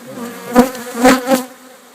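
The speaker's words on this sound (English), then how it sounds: "come up with a frame of brood with bees on it and shake it into the box" Honeybees buzz up close in a low, steady drone that swells in a few louder bursts as a brood frame is shaken into a box during queen rearing.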